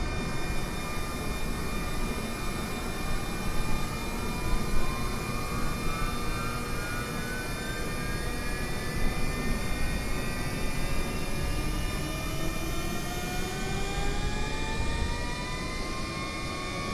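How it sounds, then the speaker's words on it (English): The engine of a Honda HA420 HondaJet spools up in Microsoft Flight Simulator, a steady loud jet roar heard from outside with rising and sliding turbine whines layered over a constant broadband rush. "starting engine number 2"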